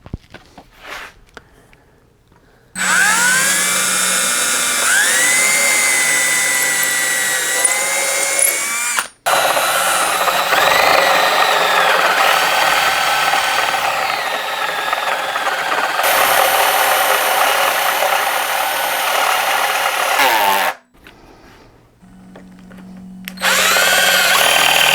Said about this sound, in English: I've got pretty much all the holes drilled for the electronics